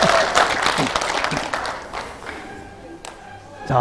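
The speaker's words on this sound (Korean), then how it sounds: "아, 박수 좀 치려면 세게 치죠." Audience at a political report meeting breaks into brief applause that fades within a few seconds, with someone speaking over and after the clapping.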